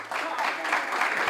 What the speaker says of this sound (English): if we can give a very, very warm and rousing round of applause for Lukas